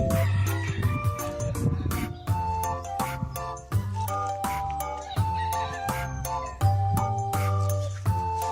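Fancy chickens at a roadside coop, several roosters crowing over and over with clucking between, loud and close, overlapping calls filling the air.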